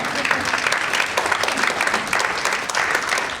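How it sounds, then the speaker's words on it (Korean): An audience applauds after a political speech at a Korean local-government event, a dense, even wash of clapping that stays loud for the whole few seconds. "큰 박수를 부탁드립니다"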